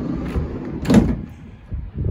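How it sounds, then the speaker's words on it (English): A single van side sliding door on a 2020 Volkswagen Caddy rolls and thuds shut near the middle, a short whooshing slide with a low bump, set against low background rumble. "you see you do have your side slide loading door"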